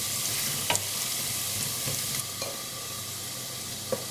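Garlic frying in hot oil for a Bangladeshi-style fish curry, an even, dense hiss of sizzling with a few faint taps of a spoon against the pan.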